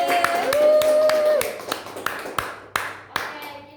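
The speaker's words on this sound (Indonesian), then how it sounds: "Beri tepuk tangan" Scattered hand claps from a small classroom group during a microteaching lesson, a few irregular claps ringing out clearly after a voice speaks at the start.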